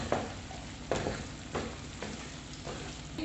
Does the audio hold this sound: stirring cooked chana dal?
yes